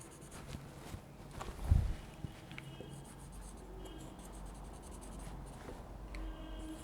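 A pen scratches across paper while someone draws a chemical structure by hand, producing quiet, intermittent strokes with a single soft thump, close up in an otherwise hushed room.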